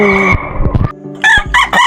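A backyard rooster crows several loud, near calls in short bursts, with a lower clucking hen sound at the start and no talk.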